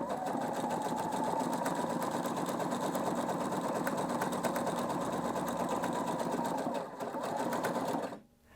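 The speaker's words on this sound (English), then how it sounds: "So we'll start stitching out now." A Husqvarna Viking Brilliance 75Q sewing machine stitches out a buttonhole with a steady, fast mechanical whir, running continuously for several seconds before stopping.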